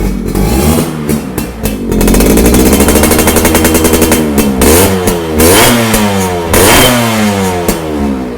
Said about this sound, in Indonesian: Halus banget untuk suara mesinnya ya, ini.